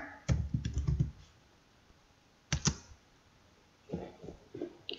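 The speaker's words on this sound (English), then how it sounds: "type in mood board in the search bar" Keys on a computer keyboard tap in short clustered bursts, typing into a Canva search bar: a quick flurry, a pause, a couple of clicks, then another light run, close and quiet.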